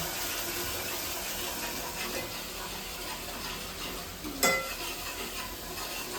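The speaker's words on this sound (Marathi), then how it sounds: "मीठ सुद्धा टाकून घेणार आहे आपण आणि हे तेलावरती आपण छान परतून घेऊया" Red chili powder and salt stirred into hot oil for a spicy mutton masala, a steady, close sizzle with soft scraping, continuous throughout and one brief sharper clink near the end.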